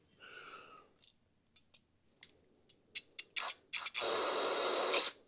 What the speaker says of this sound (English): Spray down through there.